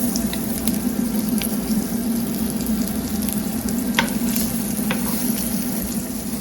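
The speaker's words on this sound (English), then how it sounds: "We're just going to pan fry these." Steady, continuous sizzling of chickpea and butternut squash cakes pan frying in oil, with a few faint clicks and scrapes on top and no talking.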